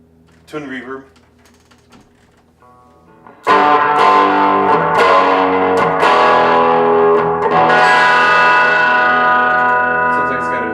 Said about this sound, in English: This is the twin reverb.